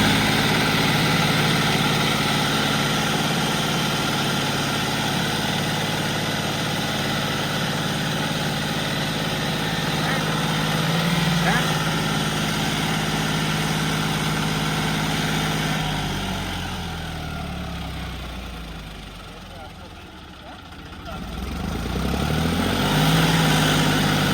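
A Kirloskar 4x4 tractor fitted with a John Deere 5050D front section idles close by, a steady low diesel drone that eases down briefly before rising again.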